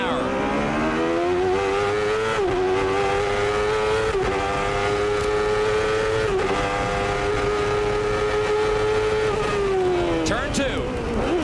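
A 1993 race car with a Chevrolet engine screams along in third gear at the Makita 300, its loud, sustained high-revving whine briefly dipping in pitch a few times before falling away near the end.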